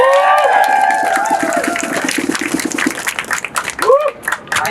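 A crowd at a reproductive and immigrant rights rally breaks into applause and cheers, with scattered clapping rising after shouted voices and a speaker's amplified talk.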